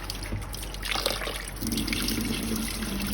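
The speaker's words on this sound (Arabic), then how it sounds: "لازم نغسل التمن غسل زين حتى تطلع الريحة والخمخمة مالت التمن." Indian basmati rice being washed in water, with a steady wet sloshing and trickling that runs unbroken and fairly close, with no talk.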